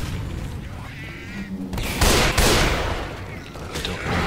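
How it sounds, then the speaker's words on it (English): Bursts of gunfire in the Left 4 Dead 2 zombie shooter crack out loudly around the two- and two-and-a-half-second marks over a busy game soundscape, with players talking through it. "I just shoot right through multiple zombies instead of just one or any other ones."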